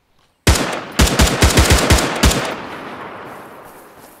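An AK rifle in Arma 3 DayZ Exile fires a rapid burst of about eight loud, close shots in quick succession, with the final report trailing off into a long fading echo.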